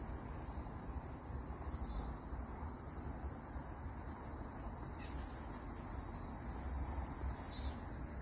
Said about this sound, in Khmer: អាសម្លេងនោះគឺសម្លេងរៃមែន